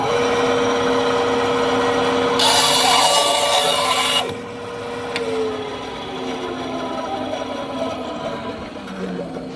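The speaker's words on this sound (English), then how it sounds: "let me go ahead and trim the bottom off so I can true it up" A saw trims the bottom off a handmade wooden flute in a short, loud rasping burst of strokes, close up, set over steady outdoor background noise.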